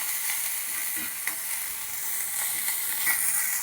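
Chopped coconut and chutney ingredients sizzle and crackle in a hot pan, with soft scraping and stirring sounds over a continuous frying hiss, close by and without talk.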